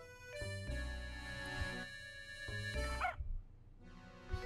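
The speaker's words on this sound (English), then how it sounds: "There's Scrappy barking." Scrappy the dog barks in Professor Layton and the Curious Village, with short yips over looping game music and chimes, a couple of quick barks standing out near the middle.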